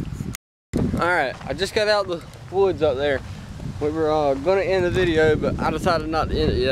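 Outdoor wind buffets the microphone in a clearing near the woods, a low rumbling gusty roar that runs the whole time beneath someone speaking.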